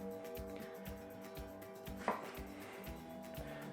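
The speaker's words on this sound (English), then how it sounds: "I'm going to cut the stalk out" Kitchen knife chopping through an onion on a cutting board, a quick regular series of crisp knocks, close and clear, with one sharper louder strike partway through.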